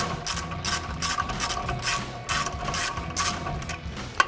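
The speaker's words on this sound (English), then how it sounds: "So once I get them loose, I can go back to my 1/2-inch drive with my 19mm." A half-inch drive ratchet with a 19mm socket loosening brake caliper bracket bolts on a 2014–2021 Toyota Tundra, giving a continuous rapid clicking of the pawl in steady bursts, close and with no voices.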